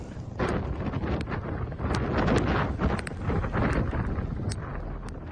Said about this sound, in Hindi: चंद घंटों के लिए आया अम्फान तूफान।